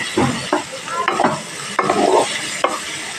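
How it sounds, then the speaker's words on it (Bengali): Mixed vegetables stir-fried in a pan over a high gas flame for fried rice, with loud close sizzling and repeated scraping tosses of a spatula in an uneven rhythm. "দিয়ে 5 মিনিট একটু নাড়াচাড়া করে নিলেই সবজিগুলো ফ্রাই হয়ে যাবে"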